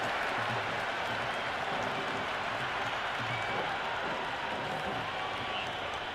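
Steady crowd applause and cheering fill a cricket stadium after a boundary in the Cricket 2026 video game, a continuous broad wash of clapping and murmur with no talk over it.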